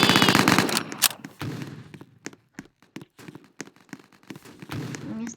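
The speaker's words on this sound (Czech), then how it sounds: "Na mě střílí, víš." Sharp bursts of automatic gunfire in a Fortnite-style Roblox game, loud at first then continuing as scattered, irregular shots with brief gaps between them.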